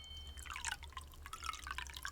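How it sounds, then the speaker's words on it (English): Wine poured into two glasses as an audio drama sound effect, a close series of liquid drips and trickles with glassy ringing, steady and moderately quiet throughout. "The captain poured 2 glasses of the wine and offered one to me."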